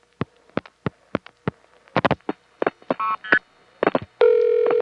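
A vintage telephone line reaches a vacant code and gives an intercept trunk recording: a string of sharp line clicks and pulses, then short steady tones and finally a loud sustained tone. No one speaks.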